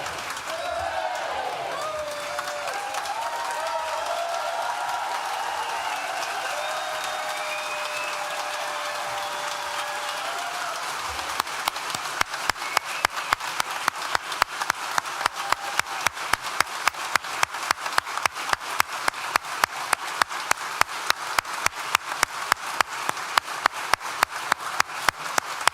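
A graduation ceremony audience at Nottingham Trent University's School of Art and Design cheers and applauds loudly, the sustained crowd noise giving way midway to steady rhythmic clapping.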